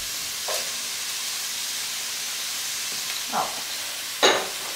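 Diced apple softens in a hot pan with a steady, close sizzle and hiss, broken by a few brief clinks from stirring.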